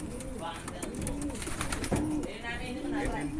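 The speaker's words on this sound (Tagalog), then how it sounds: "So, pasisilip ko muna sa inyo yung ibang ibon ni Kuya Rico." Pigeons cooing among the birds at a pigeon auction, soft repeated coos under steady chatter and a person talking up close.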